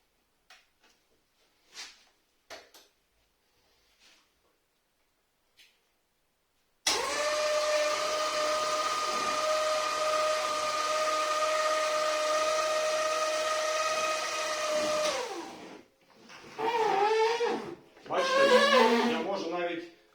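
A Vimec T08 S tracked stair lift runs with a steady electric motor whine and drone for about eight seconds, then winds down; someone speaks briefly before and after.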